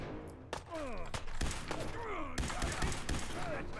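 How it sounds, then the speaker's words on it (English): Video game gunfire in Fallout 4, a fast run of sharp shots and thuds mixed with wavering synthetic effects and scattered voice-like sounds. "let's just try and shoot past him"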